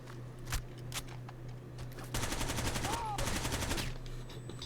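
UMP-45 submachine gun fire rattles out in Rainbow Six Vegas 2 during a Terrorist Hunt mission, with a few single shots early on and then two sustained rapid bursts, moderately loud over faint game ambience.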